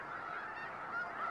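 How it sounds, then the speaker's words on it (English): Migrating geese honk at a mid-latitude staging marsh where thousands of birds rest and feed, a dense, overlapping chorus of calls from many birds at middle distance, continuous and without speech. "Here, thousands of birds stop to rest and feed."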